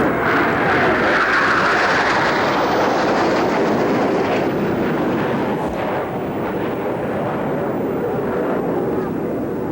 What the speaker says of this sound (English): Rob Reider and the Thunderbird Jets